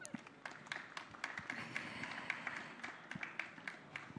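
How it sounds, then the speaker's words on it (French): Audience applause after speakers at a conference on water and sanitation services, a steady patter of many hands clapping at moderate distance with scattered sharper claps, no talk over it. "je veux encore qu'on les applaudisse"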